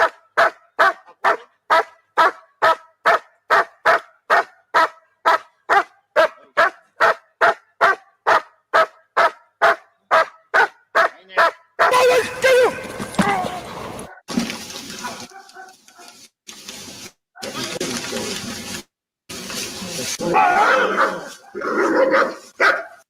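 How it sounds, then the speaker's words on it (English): A protection dog performing a bark-and-hold routine gives a long run of loud, evenly spaced barks, roughly two per second, then continues in rougher, irregular bursts with scuffling and crowd noise around it. "that's a dog doing a protection routine"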